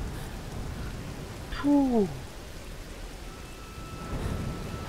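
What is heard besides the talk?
rain in video game Tomb Raider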